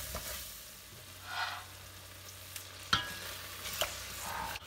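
Milk poured into a hot frying pan with large prawns sizzles softly under a low background hum, with a few sharp clinks and scraping stirs standing out, close and fairly quiet.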